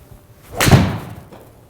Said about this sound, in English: Very solid sounding iron